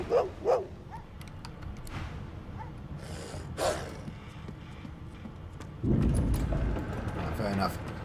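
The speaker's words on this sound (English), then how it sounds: "There is an angry dog." An angry dog in the video game Divinity: Original Sin 2 gives a few short barks early on, fairly faint under a voice, followed later by a louder rumbling game sound.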